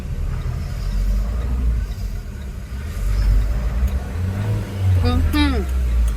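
A Tata Intra V30 pickup truck drives along with a steady low engine rumble and road noise from inside the cab, the pitch rising slightly as it picks up speed, with a short squeaky chirp near the end.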